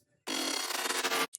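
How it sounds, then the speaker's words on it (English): Auto-panned bass layer for a glitch-growl style electronic track, one dense, loud, buzzy sustained burst of about a second, then a brief blip, heard alone. "Then I'm using this auto pan bass and it sounds like this."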